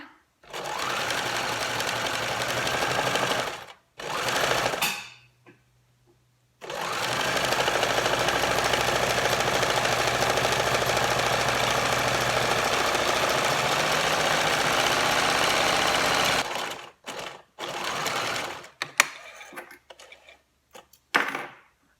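A sewing machine runs long gathering stitches on a chef's hat at a stitch length of five, close and loud. A short burst comes first, then one long continuous run, then several brief starts and stops.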